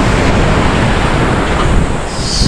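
Ocean surf at Thomas Beach in Bali, a steady, loud broadband wash of breaking waves with some wind rumble on the microphone, continuous throughout with no speech.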